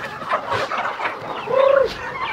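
A crowd of farm chickens packed closely together clucks repeatedly at close range, with one clearer drawn-out cluck standing out near the end amid the busy flock chatter.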